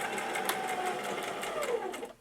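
A sewing machine stitching dress pieces together runs in a steady fast whirring chatter of needle strokes, close and continuous, then stops abruptly at the end.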